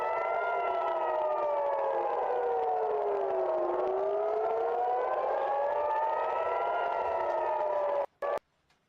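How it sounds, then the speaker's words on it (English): An air-raid style civil defense siren wails continuously, its pitch sliding down and then back up in a slow, loud cycle, before cutting off abruptly near the end. "We just hear the sirens going off."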